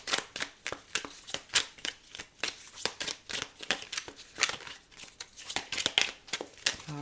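Tarot cards being shuffled by hand, a steady run of crisp riffling slaps and soft card snaps repeating roughly twice a second, close and clear with no talking.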